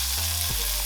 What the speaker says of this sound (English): So we're just going to sear the sides.